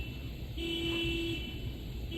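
A faint, steady car horn sounds twice in the distance, one longer honk followed by a brief second one, over low background noise.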